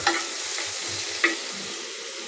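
Potatoes fry in a pan during simple home cooking, giving a steady close sizzle broken by a couple of sharp utensil clinks against the pan.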